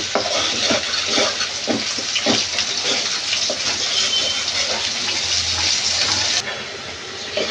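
Ground turmeric, cumin, coriander and chilli powders are sautéed in a pan for a mustard pabda fish curry, giving a steady wet bubbling sizzle with soft stirring scrapes that eases slightly near the end.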